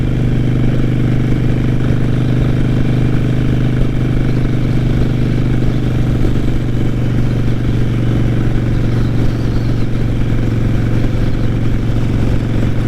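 A Harley motorcycle cruising on the freeway in fifth gear at about 60 mph gives a loud, steady low engine drone mixed with rushing wind, unbroken throughout.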